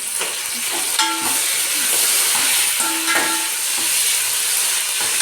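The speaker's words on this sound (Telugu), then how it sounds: "ఇంకా చూడండి కరపాకు వేస్తున్నాను" Curry leaves sizzling in hot oil for bagara rice, a steady close hiss and crackle of frying with occasional stirring clinks.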